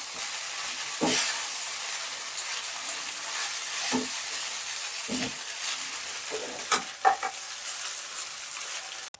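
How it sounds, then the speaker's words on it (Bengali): Chowmein stir-fried with soy sauce in a pan gives a constant hissing sizzle, punctuated by scattered scraping tosses of the spatula, near and steady, without speech. "তো চলো এবারে হালকা হালকা করে ফ্রাই করে নিই চাউমিনটা"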